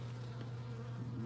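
Feral honeybees buzz steadily around horizontal beehives, a close, continuous drone with an even, unbroken hum and no voices.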